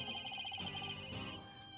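A telephone rings in the Ace Attorney: Dual Destinies game, a repeating electronic bell trill that pulses steadily and then cuts off, leaving a quieter tone behind.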